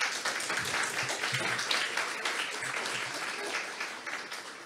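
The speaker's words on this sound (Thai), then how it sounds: "ขอเสียงปรบมือครับ" An audience at a seminar on royal archival documents applauds with dense, steady clapping that stays fairly loud for the whole stretch and tapers slightly at the end.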